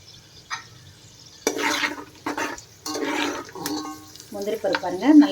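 Cashew nuts fry in a pan for vegetable brinji rice, with bursts of sizzling and scraping stirring separated by quieter gaps, and a voice rising near the end.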